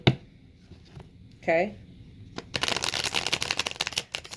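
Tarot cards shuffled by hand in a rapid, dense riffling burst that runs for about two seconds at the end, loud and close, after a single brief spoken word.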